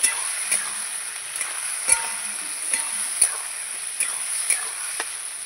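Cumin and ginger paste fries in a pan with a steady soft sizzle, broken by periodic scraping stirs and light clinks of a spoon against the metal, close and moderately quiet.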